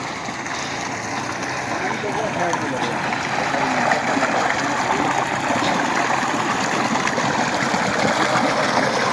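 Water pours steadily from a solar-powered 7.5 kW tube well pump, a continuous rushing flow at close range. Someone talks over it throughout.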